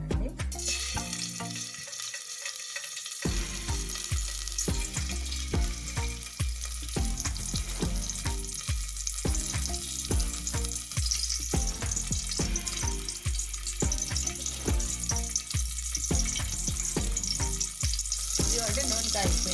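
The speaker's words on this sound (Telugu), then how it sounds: "దీంట్లో ఈ గెరిటితో 3 గెరిటలు ఆయిల్ వేస్తున్నానండి" Oil heats with a steady sizzle in a hot pan on the stove for an onion dry fish curry, a continuous close crackle with a brief tap of the spoon near the start and no talking.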